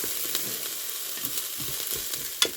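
Shallots and butternut squash sizzle and crackle steadily in a hot pan, close and fairly quiet, with a few soft stirring scrapes.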